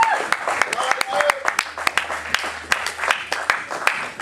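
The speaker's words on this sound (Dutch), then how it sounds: "Laten we klappen voor onze Heer" A church congregation claps in an even, repeated rhythm, loud and close, with a voice singing or speaking over the clapping.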